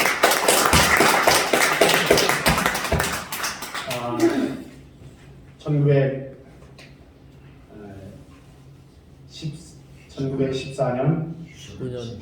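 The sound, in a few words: church congregation applause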